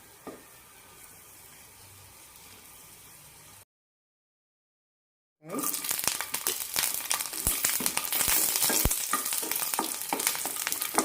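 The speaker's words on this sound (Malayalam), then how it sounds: "വെളുത്തുള്ളി നന്നായി ചുവന്ന് കിട്ടണം വെളുത്തുള്ളിയുടെ രണ്ട് സൈഡ് നന്നായി മുരിഞ്ഞ് കിട്ടണം" Garlic frying in a pan for a Kerala lentil powder recipe. A quiet stretch and a brief silent gap give way to loud, close, steady crackling sizzle with sharp pops.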